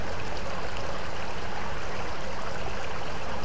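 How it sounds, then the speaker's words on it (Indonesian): Water trickles and gurgles through an artificial stream at a resort, a steady close, soft rushing that stays even and unbroken throughout, with no voices. "ada suara gemericik air. Itu karena di sini ada seperti sungai buatan"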